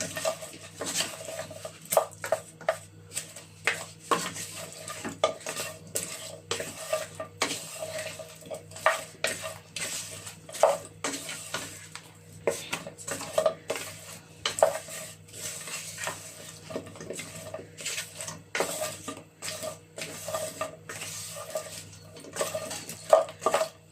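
Spoon scraping and clinking against a pot while fried beef is stirred into a well-fried tomato and pepper sauce for Nigerian jollof rice, a steady irregular rhythm of close metallic taps with faint sizzle beneath.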